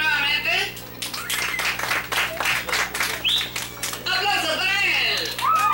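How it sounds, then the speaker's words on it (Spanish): Crowd applause at a village patron-saint festival in Cantón El Aceituno bursts up in the middle stretch, with an announcer's amplified voice before and after. "Vamos a ver, aplausos aquí nuevamente."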